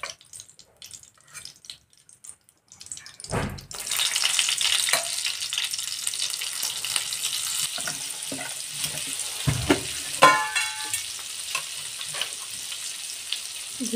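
Butter and cumin hit a hot frying pan for a Marathi matar paneer masala, bursting into a loud, steady hiss and crackle after a few quiet seconds of preparation, with a brief clatter of utensils partway through.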